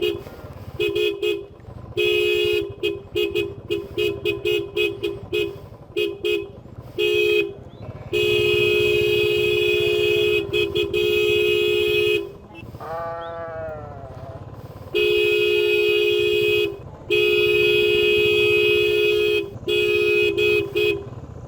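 Motorbike horn honking repeatedly at sheep blocking a mountain road on a ride to Parashar Lake in Himachal Pradesh, loud close bursts of varying length and long sustained blasts, with sheep bleating between them.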